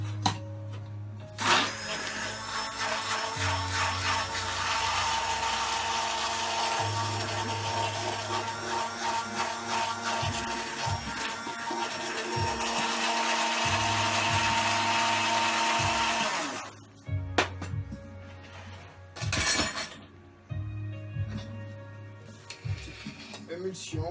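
A hand blender emulsifying a cream sauce infused with lardons for carbonara gives a loud, steady, close whirring drone for about fifteen seconds, then stops, leaving a few short bursts and handling noises.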